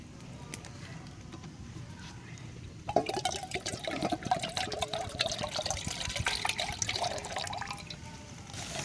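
Water poured outdoors at a backyard campsite, a faint splashing trickle that starts abruptly partway through and runs steadily to the end, with no voices.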